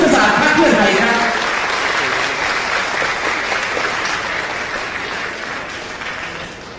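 Audience applause at a Pheu Thai party meeting welcomes Khunying Sudarat Keyuraphan, the party's strategy chair. Dense, steady clapping from a sizeable crowd starts loud and slowly tapers off over several seconds.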